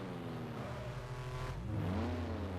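A racing car engine in the F1 Challenge game, set at the 1952 Swiss Grand Prix, drones loudly and steadily, its pitch dropping at a gear shift and then climbing again as it revs.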